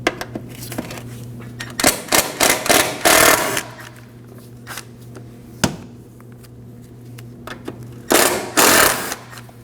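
A ratchet or power tool removing two 10mm bolts from the washer fluid reservoir of a 2003-2006 Subaru Baja 2.5L H4, rapid buzzing bursts with metallic clicks and a brief rattle, close to the mic and without speech.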